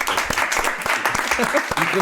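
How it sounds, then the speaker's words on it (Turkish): Studio audience applause on a Turkish comedy show comes as a dense, steady burst of clapping, fairly close and loud, with brief speech-like sounds mixed in. "Böyle her cümleden sonra bir alkış olacak."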